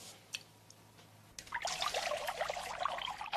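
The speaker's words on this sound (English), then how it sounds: "I'm going to pour the water in." Water pours steadily into a shallow metal pan, a splashy trickle starting after a few quiet seconds and continuing to the end, close and moderately loud.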